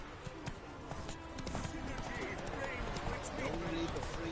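Roach, the horse in The Witcher 3, gallops with rapid, rhythmic hoofbeats that build after the first second and continue steadily alongside game ambience, while someone speaks.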